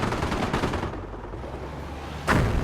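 Machine gun and mortar fire crackle in the World War II strategy game Company of Heroes: a sustained rattle of rapid shots, then a sharp, loud blast near the end.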